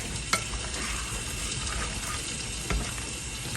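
A delicate soup with vinegar is stirred gently in a pot, giving a steady soft sizzling wash throughout with a couple of faint clicks, close and without talk.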